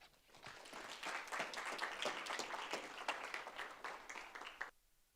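Audience applause at the close of the evening's oratory speeches in a university oratory competition at Prairie View A&M, dense steady clapping from a full hall lasting several seconds, then cutting off abruptly into near silence.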